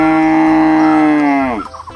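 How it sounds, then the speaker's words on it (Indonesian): Toy cattle play a recorded cow moo, one long loud sustained low call that bends downward at its end and is followed by a brief clatter. "Ada sekelompok sapi."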